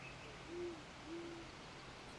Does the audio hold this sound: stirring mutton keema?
no